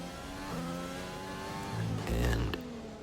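Formula 1 car engine in the F1 2020 racing game at the Hungary circuit, a loud high-pitched whine shifting through gears and revving hard, with a short burst of tire noise near the end.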